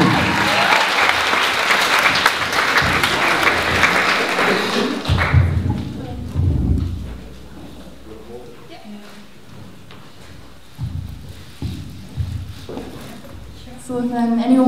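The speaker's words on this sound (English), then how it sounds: "ladies and gentlemen, round of applause for Sinead Flaherty." Audience applause at a 2012 Irish music night, loud and dense for about five seconds before breaking off into scattered thumps and taps, with voices and a few sharp knocks coming through the quieter stretch that follows.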